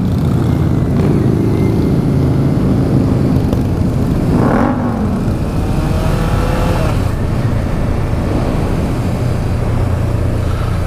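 A motorcycle, fitted with a loud flame-throwing exhaust, runs steadily while being ridden with others on a group ride. A continuous loud engine roar with wind rumble is heard throughout, and the pitch rises and falls slightly, with no talking.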